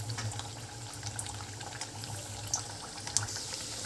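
Mathi, a crisp dhaniya snack, fries in hot oil with a steady, soft bubbling sizzle and occasional tiny pops, heard close and fairly quiet.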